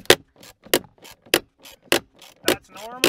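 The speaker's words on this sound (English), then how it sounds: "So now with this side panel removed, you take your 10mm socket. That'll give you access to this bolt." A ratchet with a 10mm socket works a tight, Loctite-coated bolt inside the dash of a 2020 Ford F350 6.7 Powerstroke, giving six sharp, close clicking bursts at a steady rhythm with faint ratchet chatter between them.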